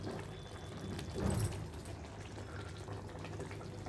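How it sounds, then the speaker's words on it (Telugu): Drained cooking water from chopped vegetables for a bitter gourd and onion curry is poured slowly into a cooking pot, a soft continuous liquid trickle that swells briefly midway, with no talking. "ఇది వాటర్ అంతా కూడా ఇందులో పోసేసాను నెమ్మదిగా"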